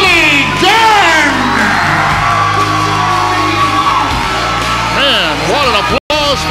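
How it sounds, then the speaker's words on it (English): A WWE wrestling arena crowd cheers loudly for a wrestler's entrance, with sustained roaring, whoops and yells rising and falling across a dense, reverberant wall of voices, a commentator's voice faintly underneath. "And what an applause for Mr. A"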